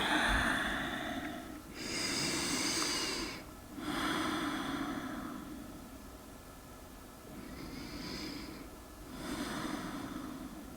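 A slow yoga sequence of deep breaths: several long, breathy exhales and inhales in a calm rhythm, close and fairly soft, with no talking.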